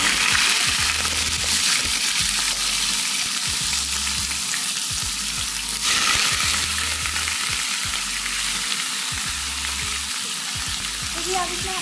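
Chicken frying in a pan gives a loud, steady sizzle with a dense hiss that holds throughout, alongside a faint rhythmic low thumping in the background.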